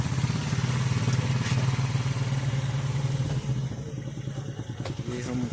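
Idling motorcycle engines rumble steadily on a small wooden river ferry boat as motorcycles cross, with mechanical clatter and a faint voice in the background throughout.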